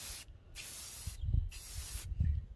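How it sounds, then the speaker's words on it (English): Aerosol spray can hissing out tint onto car taillights on a G-body Cutlass, in repeated bursts of steady hiss separated by short pauses, close and fairly loud with no talking. "And you ain't even finished spraying it yet."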